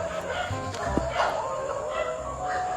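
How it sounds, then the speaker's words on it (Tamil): Dogs whining and yelping at night in a residential area, a few cries and short barks at moderate distance against a steady background hum, with a voice speaking briefly. "நாயெல்லாம் விடாம அழுதுட்டு இருக்கு."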